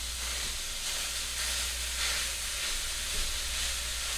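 Ground meat browns in a pan for a tater tot breakfast casserole, giving a steady, soft, continuous sizzle with no one speaking.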